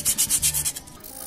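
Several quick back-and-forth strokes of coarse sanding on glazed front brake pads from a Rocketman 250 motorcycle, close and steady, then the scraping stops and only faint room noise remains.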